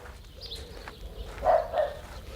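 A trained dog barks in a rural setting, two quick, mid-distance woofs close together over a quiet outdoor background with faint bird sounds.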